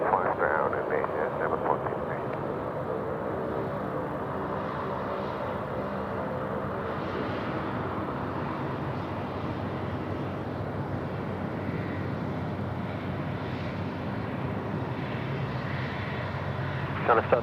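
Emirates jet airliner at Sydney Airport, a steady broad engine roar holding throughout at moderate distance, with commentators talking over it.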